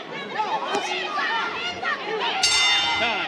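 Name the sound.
boxing ring bell ending the round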